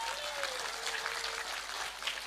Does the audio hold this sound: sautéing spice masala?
no